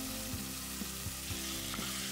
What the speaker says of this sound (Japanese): ここでマリネしておいた鶏肉を取り出し、空いた方の鍋を使って炒めていきます